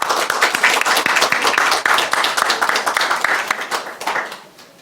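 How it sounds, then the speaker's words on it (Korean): A church congregation at a Sunday worship service claps in greeting, loud and brisk with many overlapping hands, holding steady before thinning out and fading away near the end. "박수로 안녕하세요."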